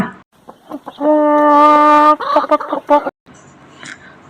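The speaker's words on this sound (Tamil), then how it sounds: "இது கோழி குஞ்சு கொஞ்சிற சத்தம்" Chicks of a domestic chicken chirping up close: a loud, drawn-out tonal call followed by a run of quick choppy peeps, then near silence.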